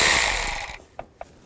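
A ratchet fitted with a 10mm socket works a nut loose on a 2000–2006 GMC Yukon, giving a dense burst of rapid clicking and then two short, separate clicks close up.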